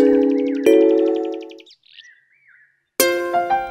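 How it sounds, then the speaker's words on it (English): A cartoon crow caws in a children's fable, harsh tonal calls in a fast stuttering burst, a brief pause with softer wavering cries, then another loud abrupt call, clear and close with no talking. "The crow lifted up her head and began to caw her best."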